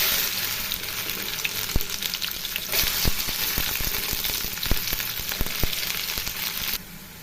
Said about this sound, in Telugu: ఇలా 2-3 మినిట్స్ వరకు ఫ్రై చేసుకోవాలండి.